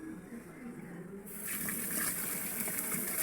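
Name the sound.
water running while washing rice for the rice cooker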